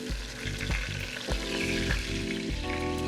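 U.S. beef stew meat sears in a pan, a close, steady sizzle layered with a humming tone that shifts in steps throughout.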